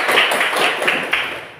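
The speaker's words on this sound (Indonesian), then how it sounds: "mari kita tepuk tangan untuk kita dulu" Group of schoolchildren clapping hands together in a classroom, a short burst of rhythmic, fairly loud claps in quick repeated beats.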